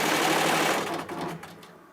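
A 1997 Tajima embroidery machine runs with a steady, dense mechanical whir close by, then the sound becomes fainter and breaks into a patter as it slows near the end.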